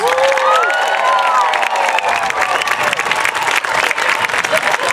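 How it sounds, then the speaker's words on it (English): A school crowd at a fifth grade promotion ceremony applauds loudly and continuously, with cheers and children's shouts mixed in and some voices rising above the clapping. "let's give our promoting class of 2014 one final big round of applause"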